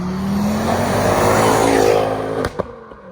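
A Ford Focus RS Stage 2 on the old Charade racing circuit roars past up close, its engine note rising and sweeping by, then a sharp exhaust detonation cracks out with a couple of smaller pops as it fades.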